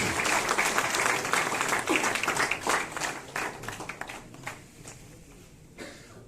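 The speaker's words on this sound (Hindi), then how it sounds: "कृपया तालियों से स्वागत करें।" An audience at an energy conservation week closing ceremony in Banaras gives steady applause to welcome an award winner to the stage. The clapping is dense at first, then thins out and fades.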